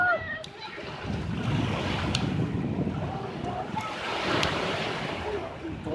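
Ocean waves wash onto a beach in a continuous rushing roar that swells and recedes, with wind buffeting the microphone and occasional splashes.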